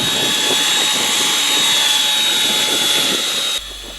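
Align Trex 700 RC helicopter, running ArduPilot, hovering in light wind with a steady loud rotor and turbine-like whine and a high tonal hum, continuous throughout before dropping in level near the end.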